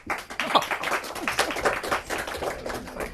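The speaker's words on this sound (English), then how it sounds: "Give him a clap." A small literary-society audience claps for a reader, the claps loose and uneven, rising and falling in scattered bursts over a few seconds.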